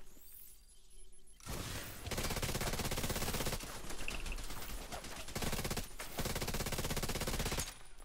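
Sustained automatic gunfire in The Division 2's Dark Zone PvP, rapid dense bursts rattling continuously for several seconds with only brief gaps, loud and close.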